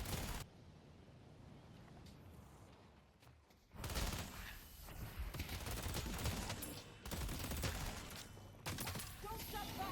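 Rapid gunfire in the video game Deadlock, with sustained automatic bursts and breaks between them, loud and dense, while players talk over it.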